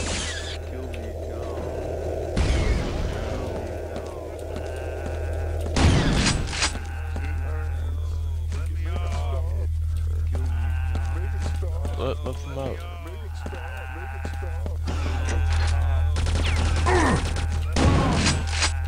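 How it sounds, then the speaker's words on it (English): Insane prisoners in Quake 2's Strogg detention center bleating like sheep, repeated wavering cries between loud gunshot bursts, heard over a steady low game hum with a voice talking. "They make sheep noises?"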